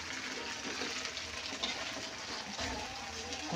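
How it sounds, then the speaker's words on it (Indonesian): Shrimp fry in a pan with a steady crackling sizzle that holds level throughout, close up, with faint household noise in the background. "Goreng urang iki."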